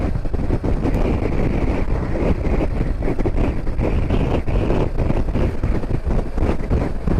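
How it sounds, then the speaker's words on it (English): Strong wind on an open road in northern Scotland buffets the microphone with a loud, continuous low rumble and gusty roar, no voices. "God, it's windy when you get out of these towns onto these open roads."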